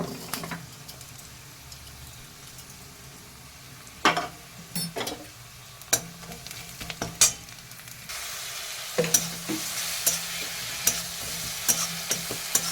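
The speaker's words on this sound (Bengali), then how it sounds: "একটু কিছুক্ষণ ভালো করে মশলাটা কষিয়ে নেব" Ground spices, including turmeric, red chilli powder and Kashmiri chilli powder, fry in a pan with a low sizzle, punctuated by sharp spatula scrapes and taps that grow busier toward the end, with no talking.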